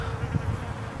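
A low, steady droning buzz of many honeybees flying around their hives fills the air, continuous and fairly close, with no other sounds.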